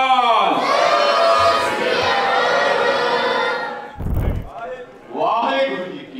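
Crowd at a Gatka Sikh martial art performance during a festival roars a Sikh jaikara victory cry, a loud sustained collective shout answering a leader's call, followed by shorter voiced exclamations.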